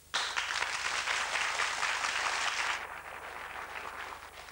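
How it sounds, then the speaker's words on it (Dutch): Studio audience applauding at the start of a Flemish TV quiz show, a dense, steady wash of many hands clapping that holds strong for a few seconds, then drops and fades into softer scattered clapping. "APPLAUS"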